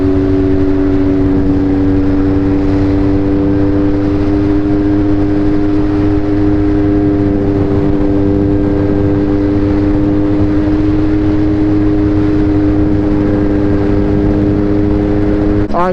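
Yamaha R3 sport motorcycle under way on a street ride, engine droning loud and steady throughout with stable harmonic tones as it holds speed, wind roar underneath, and a brief rising rev right at the end.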